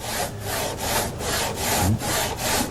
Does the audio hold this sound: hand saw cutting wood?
yes